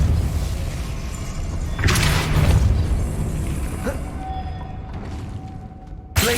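A Depulso spell cast in Hogwarts Legacy: a broad whooshing burst with a low rumble that swells, trails off into a thin whistling ring, then ends in a sharp hit.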